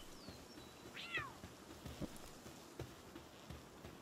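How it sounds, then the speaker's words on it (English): Cat in the Palworld video game lets out a short rising meow over a steady background bed of ambient game noise and soft footsteps, fairly faint overall, with no talking. "A cat in front there too."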